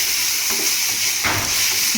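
Cumin seeds frying in a pan for hotel-style red chutney, a bright, steady sizzle and hiss close up, with brief stirring scrapes and no talking.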